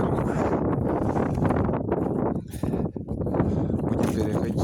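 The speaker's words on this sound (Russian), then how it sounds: "О, какой ветерок." Cold, gusty outdoor wind near a frozen river buffets the microphone with a loud, rumbling roar that rises and dips, close and continuous.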